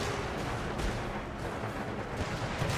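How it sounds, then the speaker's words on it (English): Musket volleys in the Empire Total War game pour onto a fortress wall as a dense, continuous crackle of massed gunfire, steady and loud throughout with no pauses. "Now musket bullets started flying towards the wall as well."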